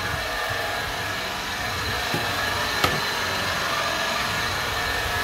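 A Kitfort KT-508-2 electric broom runs across linoleum with a steady, even motor whir that holds alone throughout, broken by a couple of brief clicks partway through.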